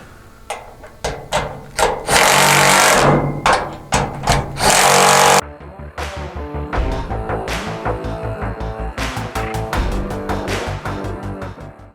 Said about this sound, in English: Now we'll grab our impact with our 9/16 socket and we'll fasten the tops down to the roll cage.